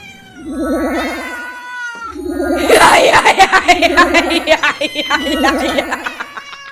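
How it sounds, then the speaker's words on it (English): Cats yowl in long, wavering, drawn-out cries, loud and close, overlapping with a burst of chattering, laugh-like sounds in the middle. "can you please keep your cats quiet?"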